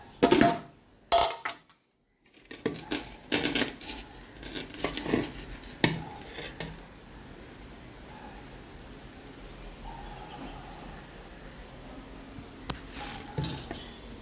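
Dishes and cutlery clinking as home-cooked food with potato and meat is served: sharp, irregular clatters and taps close by, clustered at first, then sparser over a quiet room background.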